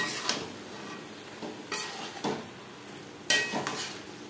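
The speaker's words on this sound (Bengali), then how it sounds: "শাকের সাথে চেরা কাঁচা লঙ্কা ও মাছের মাথা বেশ ভালো করে মিক্স করে দেবো।" Hilsa fish head and taro greens with slit green chillies frying in a pan, stirred in several scraping strokes over a steady close sizzle, with no talk.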